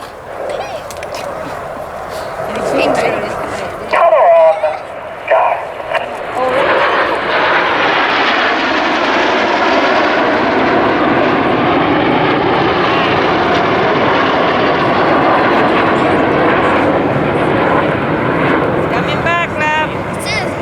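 RAF Red Arrows jets roar loudly overhead during an air show, a sustained broadband jet rush that swells and holds for most of the pass, with a commentator talking over the start.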